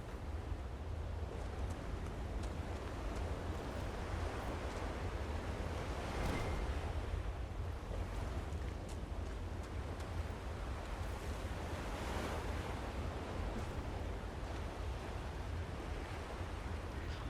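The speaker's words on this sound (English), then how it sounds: "these waves coming in, right, look far too high for us not getting wet here" Waves breaking on a shore in the video game Dragon Age: Inquisition, a soft continuous surf wash with gentle swells, quiet and distant under a low steady rumble.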